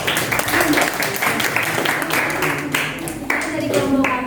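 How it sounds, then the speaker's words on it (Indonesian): Classroom applause for a presenting group during a lesson, a sustained burst of many hands clapping, loud and close, with voices mixed underneath. "Oke, aplaus untuk kelompok."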